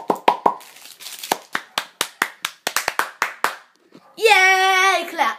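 A dozen or so sharp hand claps ring out alone in an indoor room in a quick, uneven rhythm, followed by a child's squealing cheer.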